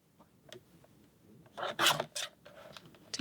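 Material being cut and trimmed makes faint, scattered rasping snips and scrapes, growing into a brief cluster of louder scratchy strokes before trailing off.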